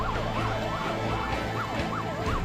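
Ambulance siren wailing steadily in repeated rising-and-falling sweeps, loud and continuous over low traffic rumble with no talk.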